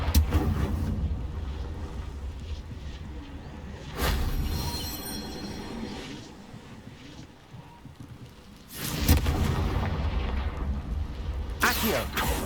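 The Confringo blasting spell from Hogwarts Legacy bursts loudly several times in roaring, crackling waves with lulls between blasts, set against ongoing game ambience.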